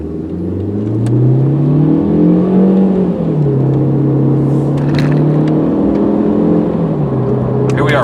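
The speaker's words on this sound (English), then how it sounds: "that turbocharger kicks in. You can really feel it." A 2002 Volkswagen Passat with a turbocharged engine accelerating on the road, its loud engine note climbing in pitch through the gears, dipping briefly at each shift and then rising again, heard from inside the car.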